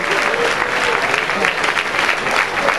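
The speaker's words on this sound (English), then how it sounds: "Y'all clap your hands for Hitmakers." A crowd at a beat battle finals award announcement claps and cheers in a loud, continuous burst of applause, with a voice partly audible underneath.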